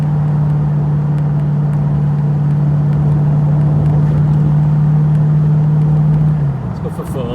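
A TVR Chimaera sports car drives on the road with its top down, its engine holding a loud, steady droning note that drops away near the end while someone talks over it.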